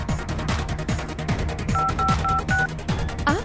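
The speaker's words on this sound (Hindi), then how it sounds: "तू फोन लगा उसे जल्दी।" A phone call being dialed, a run of short keypad tones beeping in quick succession over a low rhythmic musical background, with no talk.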